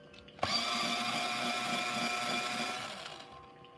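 An electric pencil sharpener grinds a colored pencil in one continuous burst of about three seconds, starting abruptly with a click and whirring steadily before winding down, close and alone.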